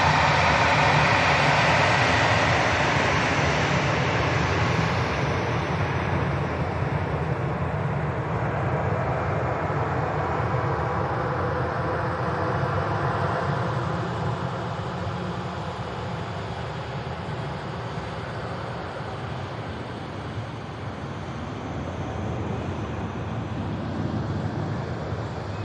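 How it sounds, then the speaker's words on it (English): A plane departing Manchester Airport for Funchal on an icy day, a broad engine roar heard from a distance that slowly fades and thins as the aircraft climbs away. "And there's the aircraft off to Funchal."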